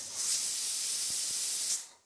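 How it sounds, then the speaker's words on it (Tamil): A pressure cooker whistle releasing steam while cooking green gram rice in a home kitchen, one steady loud hiss lasting well over a second, close up and alone, then cutting off. "இன்னும் ஒரு விசில் வந்தோடனே அடுப்பு ஆஃப் பண்ணிடலாம்."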